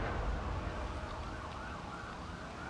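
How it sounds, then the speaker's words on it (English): A faint emergency siren wails in the distance outside, steady and low beneath a dull background hum, with no one speaking. "I apologize if you guys can hear the siren in the background."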